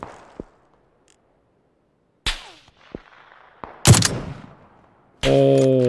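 An SLR rifle in PUBG fires a handful of sharp, spaced single shots that crack loudly against near silence, followed by a sustained tonal sound at the end.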